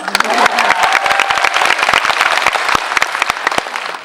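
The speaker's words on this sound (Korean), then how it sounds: "네, 박수 한번 칠까요?" Audience applause at a live talk event for the film Parasite, with dense, steady clapping from a crowd that fills the whole stretch at close range.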